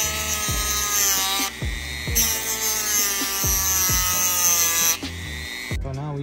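A power tool cutting a small slit in a Honda Civic Type R FK8 valve cover part: a loud, steady high-pitched whine with a series of short rhythmic pulses, close and continuous with no talking.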